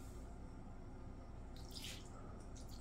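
Liquid Jell-O poured into a flat pan, a steady faint trickling and splashing stream with a brighter burst of pouring partway through, no voices.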